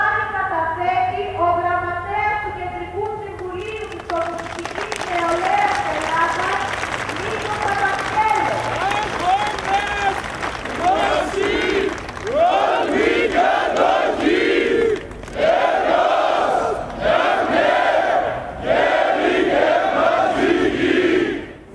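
A large crowd at the Athens Polytechnic uprising commemoration chants rhythmically, then bursts into loud applause and cheering that rises and falls over a long stretch, with a voice speaking over the sound.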